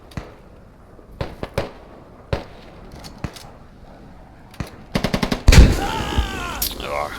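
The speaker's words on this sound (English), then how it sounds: "FJ sees him, gets a few shots in." Gunshots in the video game Squad: sharp single cracks spaced apart, then a rapid string of shots and a heavy blast, followed by a voice.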